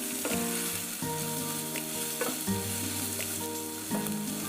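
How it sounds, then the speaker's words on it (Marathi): Spices (garam masala and turmeric) sizzling and frying in hot oil in a pan while making potato tacos, a steady loud crackle with occasional stirring clinks, no talking. "मसाले तेलात पुन्हा परतून घेऊ आपण"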